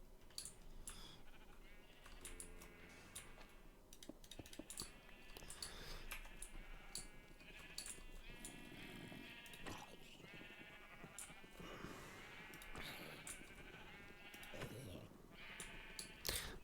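Sheep bleat in a video game, several wavering, nasal calls heard close against a faint background of game clicks and noise.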